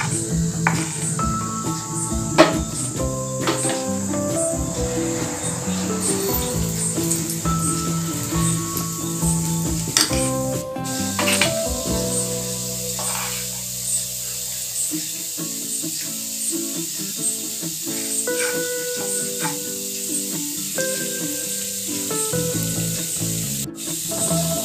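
Batata vadas fry in hot oil over a medium flame, a continuous crackling sizzle running steadily beneath tonal background music for the whole stretch.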